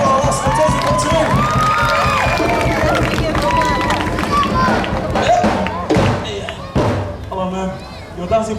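A crowd at the 2019 Teuila Festival dance contest in Samoa cheers and shouts amid thumps and movement, noisy and close, with a voice talking over the commotion.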